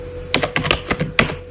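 Quick, close typing on a computer keyboard while code is entered, a burst of about eight sharp keystrokes in an irregular rhythm over a faint hum, no voice.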